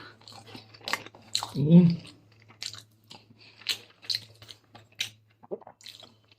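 Close, wet chewing and biting on katla fish head curry with rice, soft smacking and squishy crunches in an uneven rhythm, with one louder bite early and short pauses between mouthfuls.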